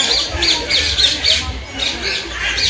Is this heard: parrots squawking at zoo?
yes